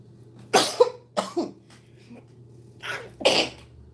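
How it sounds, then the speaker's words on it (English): Several sharp sneezes burst out close by, two early and two more after a pause, with quiet breathing between them. "That was a sneeze."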